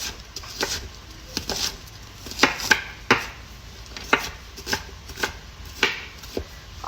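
Knife chopping onions on a cutting board, a series of irregular sharp taps, close and moderately quiet, with no talk.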